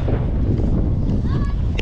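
Gusty wind buffets the microphone in a low, rumbling roar, with a faint voice murmuring briefly underneath.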